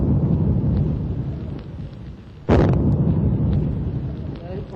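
A single deep, booming shot of ceremonial cannon fire at an independence day ceremony cuts sharply through a continuous crowd rumble and then rolls away into the background noise.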